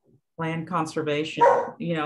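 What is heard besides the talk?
dog barking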